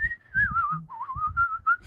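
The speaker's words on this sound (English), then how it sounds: "And I can whistle Yankee Doodle." One person whistles the tune Yankee Doodle. The whistle is clear and close and gets a little unsteady, with short pauses between the phrases and small soft noises underneath.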